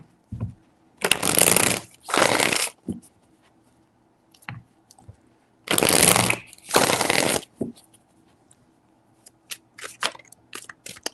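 Tarot cards are shuffled close up in two separate bursts, each a fast riffling flutter lasting a second or two, followed by scattered light taps and clicks as the deck settles.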